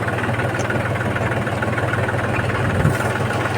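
A tractor engine running at a steady idle, a continuous low, even rumble close by with no speech over it.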